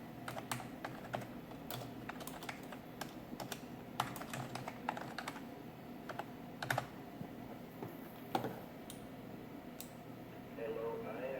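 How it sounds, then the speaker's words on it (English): Keys clack on a vintage Macintosh keyboard, Mac Plus era, as someone types text: irregular sharp clicks at a fair distance over a faint background hum, with a brief soft voice. "Just type in some text here."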